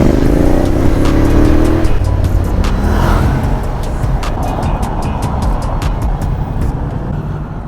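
A 2021 Honda X-ADV maxi scooter engine hums loudly up close amid busy Paris traffic on the Avenue de la Grande Armée, with a brief rising whine early on and steady road noise throughout.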